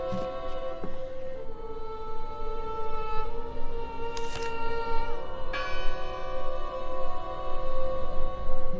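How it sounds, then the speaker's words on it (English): A church bell rings repeatedly inside a church, its tolls sounding steadily with rich ringing overtones over a low background rumble. "Listen! The bell! They're still in there!"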